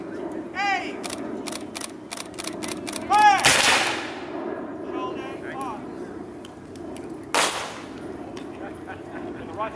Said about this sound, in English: Front rank. Aim. Fire.